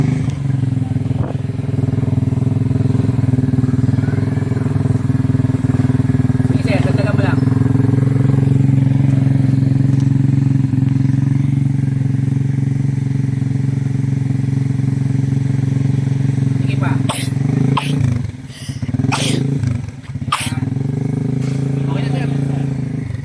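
A motorcycle fitted with a full-open dual muffler runs loud and close with a steady, heavy engine drone, then blips and dips near the end, while people talk over it.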